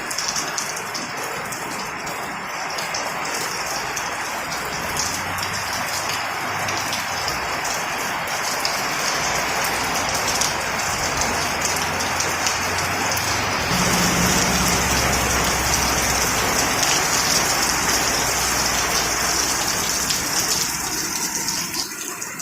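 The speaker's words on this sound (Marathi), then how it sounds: "आणि पाऊस तर कंटिन्यू सुरूच आहे अजून" Steady heavy rain pours down continuously, a dense close hiss of drops on surfaces, with a low rumble swelling briefly midway.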